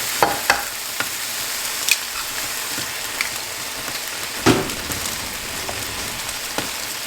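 Eggs frying in a pan for Indo Chinese fried rice, a steady crackling sizzle with a few sharp cracks and clinks, one louder bump near the middle, no talk.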